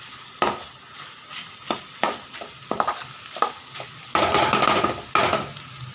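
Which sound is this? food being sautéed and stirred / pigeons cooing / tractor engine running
food being sautéed and stirred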